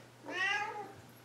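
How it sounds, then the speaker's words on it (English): A pet cat named Smidge lets out a single clear meow, close to the microphone, rising and then falling over about half a second in a quiet room. "That's my cat."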